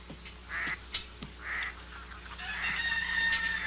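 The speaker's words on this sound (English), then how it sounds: "it's not a goose. It's a pelican." A pelican gives a series of short nasal honks, fairly quiet and spaced apart, then a longer, drawn-out squawking call.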